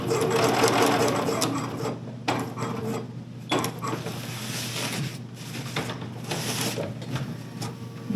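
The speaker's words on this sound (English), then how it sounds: "I'm going to back stitch this top edge." A sewing machine runs in close, uneven bursts with brief pauses, back stitching along the top edge of a fabric overnight bag.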